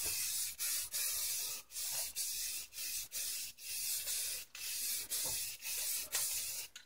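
An aerosol can sprays a light adhesion coat onto Cushman decal covers in a series of short bursts, about ten close hissing sprays separated by brief gaps, loud and steady.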